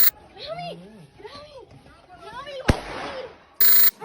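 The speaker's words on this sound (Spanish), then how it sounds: "¡Está disparando! ¡Está disparando!" Gunfire at a street protest: a single sharp loud crack cuts through excited shouting voices, followed by a noisy burst, with people talking throughout.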